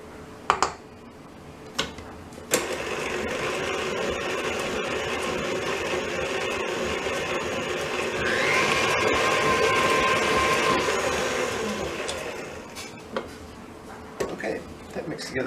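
An electric mixer whirs steadily through cake batter for a chocolate raspberry mousse cake, its motor hum swelling louder midway, framed by clinks and taps of bowl and utensils.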